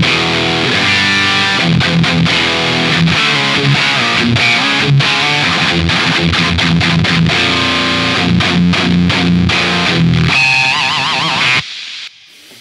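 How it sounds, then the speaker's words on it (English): Electric guitar played through a Violet distortion pedal, thick saturated chords and choppy riffs, loud and continuous, then cutting off abruptly into a brief ringing tail and near silence. "let's see how the Violet distortion handles it"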